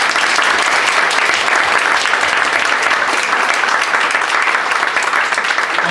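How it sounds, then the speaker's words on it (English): An audience gives its speakers a sustained round of applause at a Five Guys brand event, thick and even clapping throughout with no voices rising above it. "One more round of applause for our speakers."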